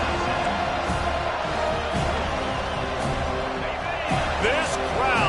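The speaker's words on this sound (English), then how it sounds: "This crowd, full throat, splitting the eardrums" A football stadium crowd roars in a steady, dense wash of cheering throughout, loud and sustained, with a broadcast commentator talking over it.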